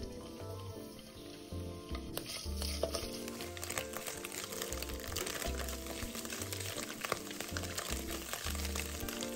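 Diced soaked shiitake mushrooms stir-fry in fried garlic oil in a wok, giving a steady close sizzle with occasional stirring scrapes over a continuous background of music.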